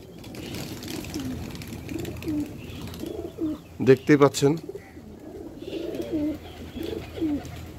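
Pigeons perched on a rooftop loft before release give soft cooing calls, with a short cluster of louder calls midway, while someone talks throughout.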